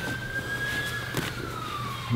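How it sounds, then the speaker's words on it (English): Ambulance siren passing, a steady tone held at one pitch and then sliding lower as it goes by, heard at moderate distance over constant background rumble. "ambulance."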